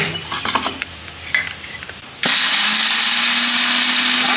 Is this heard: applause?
no